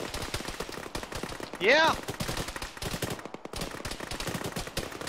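Rapid bursts of automatic gunfire from a firefight in the military game Arma during a ShackTac mission, dense and continuous with sharp cracks. A voice briefly shouts partway through.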